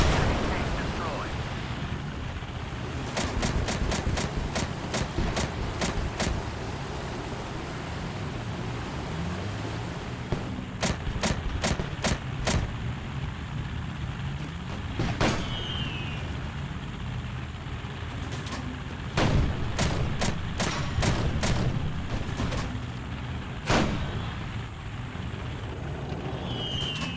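Fireworks in a video game: sharp cracks and booming bursts popping in irregular clusters over a rumbling battle ambience, with a voice talking throughout.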